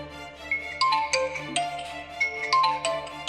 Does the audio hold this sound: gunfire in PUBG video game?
no